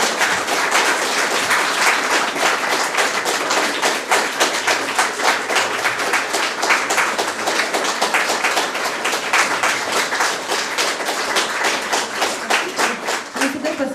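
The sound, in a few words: audience applause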